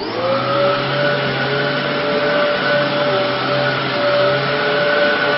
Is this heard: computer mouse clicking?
no